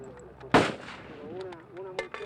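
A single sharp gunshot cracks out close and loud, followed by someone speaking briefly at a low level.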